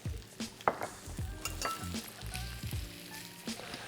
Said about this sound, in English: get my oil in the pan. I'm gonna go straight in with half the onion and half of the chilli.